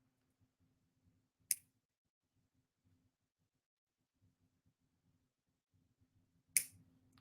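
Wire cutters snip through pipe chain ends for earrings, two sharp, isolated clicks several seconds apart against near silence, close and crisp.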